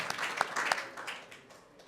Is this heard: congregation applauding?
yes